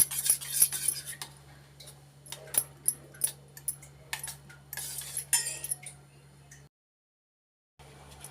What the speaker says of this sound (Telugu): సన్నగా కట్ చేసి పెట్టిన గ్రీన్ చిల్లీ, కొత్తిమీర, బ్లాక్ పెప్పర్ పౌడర్, ఈ మూడింటిని బాగా మిక్స్ చేసుకోవాలి